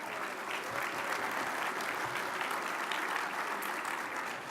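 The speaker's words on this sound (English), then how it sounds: "Let's give everybody a round of applause" Audience applause at a transportation summit's opening session, a steady, even wash of many hands clapping in a large hall, moderately distant and continuous.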